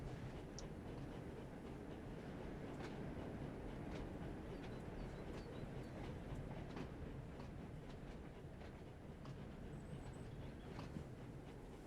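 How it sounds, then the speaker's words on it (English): A train in a Thomas & Friends Sodor video game rolls slowly backwards, a steady low rumble with light rhythmic clickety-clack of wheels and faint metallic creaks, no talking. "I am literally going to bring this train to an absolute stop and slowly inch backwards."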